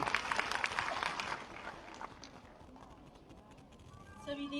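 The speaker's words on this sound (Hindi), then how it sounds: "एक बार जोरदार तालियां" An audience applauds for the speaker Yashoda at a government app launch and thermal printer distribution event. Dense clapping is loud at first, then fades away, and a voice begins speaking at the end.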